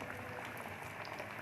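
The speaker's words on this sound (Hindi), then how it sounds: "अब हम इसका बाकी वाले इसमें डालते हैं फ्राई करने के लिए।" Round chicken kebabs sizzling in hot frying oil, a steady, close, crackling hiss that fills the whole moment without a break.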